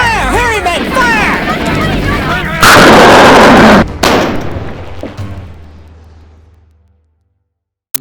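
Heavy gunfire and artillery blasts in a battle scene, loud bursts and a dense roar of shots over the first five seconds, with shouting voices mixed in before the noise fades away.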